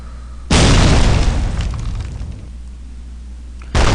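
A hand grenade bursts in the online shooter Sudden Attack, a sudden loud boom with a heavy low rumble that decays over about two seconds before another blast cuts in at the end.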